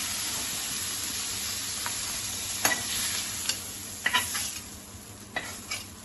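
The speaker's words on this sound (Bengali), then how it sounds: "চিংড়ি মাছগুলো একদম সুন্দর করে লাল লাল করে ভাজা হয়ে গেছে" Shrimp fry in hot oil in a pan, a soft continuous sizzle broken by a few sharp scrapes and clinks of a spatula stirring against the metal.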